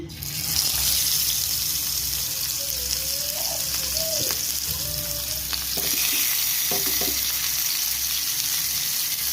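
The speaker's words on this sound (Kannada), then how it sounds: "ನಾನು ಫಿಶ್ ಫ್ರೈಗೆ ಮಾಡ್ತಾಯಿದ್ದೀನಿ ತವ ಇಟ್ಟು ತವ ಇಟ್ಟು ಎಣ್ಣೆ ಹಾಕೊಂಡಿದ್ದೀನಿ" Fish fry sizzling in oil on a tawa, onion fish fry, a loud continuous close sizzle with a few scraping stirs and clicks partway through, no voices.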